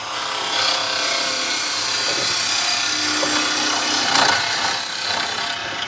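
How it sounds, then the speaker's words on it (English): A skew chisel slices wood spinning on a lathe, a steady close rasping hiss with a brief louder scrape past the midpoint. "Just do a nice little skew cut there."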